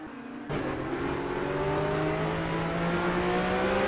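Porsche Supercup race cars on a track in Hungary, a sustained engine drone that swells as a car accelerates past, rising in pitch and growing louder toward the end.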